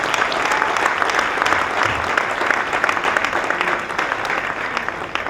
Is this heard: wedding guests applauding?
yes